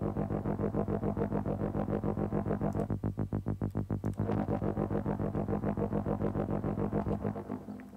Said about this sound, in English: I could see myself using this multi-tap delay for several like dub style effects